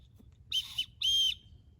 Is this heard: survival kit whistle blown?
yes